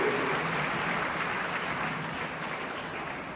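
Audience clapping steadily at a mass Satyanarayana puja gathering in the Siddeshwara temple at Athani, a broad dense wash of applause that fades slightly toward the end.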